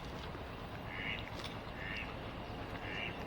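Ducks and geese on a London canal give a few faint quacks at intervals over steady background noise.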